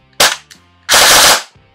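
A CYMA CM.131 airsoft replica fires two short bursts, loud and close, the first brief and the second a longer sustained rattle, separated by a short pause.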